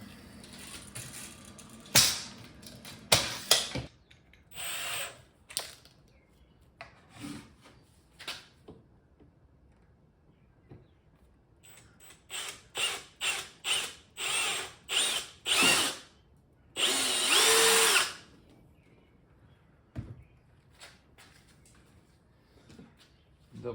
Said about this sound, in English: Get the other side drilled.